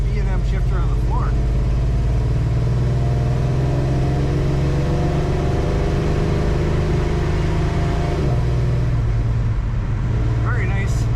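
A 1964 Dodge Dart GT convertible, converted from push-button automatic to a floor-mounted B&M shifter, pulls hard under acceleration, its engine drone steady and close with road and wind noise, while a voice talks over it.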